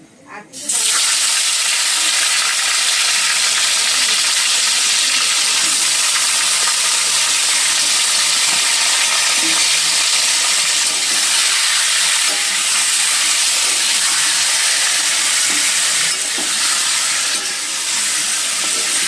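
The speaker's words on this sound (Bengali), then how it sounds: "মাংসগুলো কিন্তু আমাদের খুব বেশি এখানে ভাজতে হবে না, সামান্য রং ধরলেই হবে।" Chicken pieces dropped into hot oil for a Mughlai chicken curry burst into a loud, close hiss that holds steady and dense until the end.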